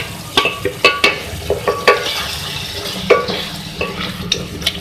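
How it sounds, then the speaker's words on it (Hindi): Potatoes frying in a pan for an egg and potato curry, a close sizzle punctuated by sharp, irregular knocks and scrapes of a spoon stirring them, with no voices. "आलू डालने के बाद उसको हम भून लेंगे अच्छी तरह"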